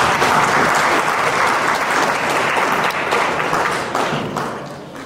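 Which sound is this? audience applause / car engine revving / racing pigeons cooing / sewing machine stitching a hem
audience applause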